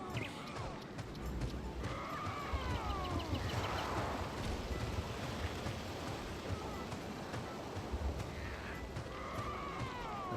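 Horses in the fantasy video game Warhammer: Age of Reckoning: steady hoof clip-clop and occasional whinnies over a busy, dense game soundscape with rain-like noise, moderately loud throughout.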